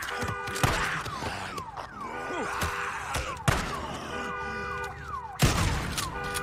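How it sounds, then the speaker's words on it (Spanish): A car alarm blares in the video game Days Gone, its harmonic wailing tones sweeping up and down repeatedly, punctuated by sharp loud thumps, with voices heard briefly over it. "Alarma, ¿cómo la callo?"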